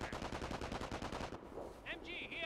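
Machine gun fire in Company of Heroes: Tales of Valor, a fast, steady rattle of rounds for over a second, then stopping as other battlefield sounds take over.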